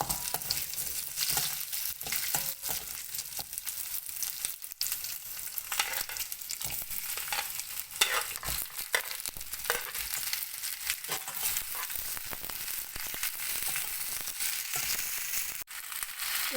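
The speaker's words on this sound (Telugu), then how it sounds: "దీంట్లో ఇప్పుడు మనం టమాటో యాడ్ చేసుకున్నాము." Tomato fries with garlic and onion in a pan, a dense crackling sizzle with frequent scraping and squelching stirs, close up and continuous, with no speech.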